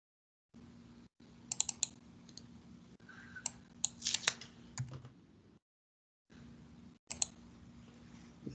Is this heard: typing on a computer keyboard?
yes